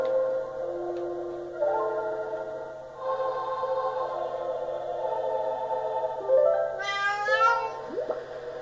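A cat meows several times in a quiet room, drawn-out and plaintive cries that grow louder, ending in a sharper rising call.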